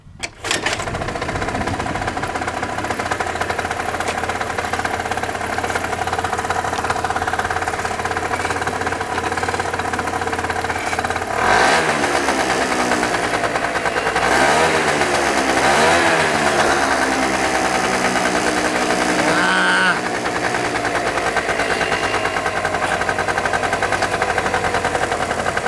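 A scooter engine, MBK, Vespa or Piaggio type, bursts into life after a kick start and runs loud and raspy for over twenty seconds, with repeated revs rising and falling in the middle before settling back.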